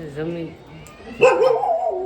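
A dog at a fair gives short yips or barks, the loudest burst arriving midway, with people talking over it throughout.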